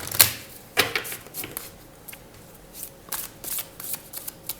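Tarot cards are shuffled by hand close up, with quick papery riffles and flicks coming in uneven bursts. Two sharper snaps stand out near the start, followed by a cluster of soft shuffles later.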